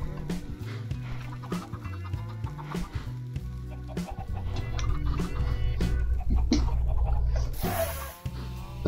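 Chickens in the Minecraft video game cluck repeatedly in short bursts over a steady game background, the clucks fairly loud and close, with no talking.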